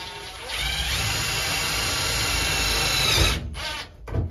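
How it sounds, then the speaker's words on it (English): Power drill drives screws through cardboard in a custom metal work shop on a Cummins-swapped 1969 Dodge D200 crew cab, whirring steadily up close before slowing, stopping and briefly spinning again. "we're screwing cardboard in right now"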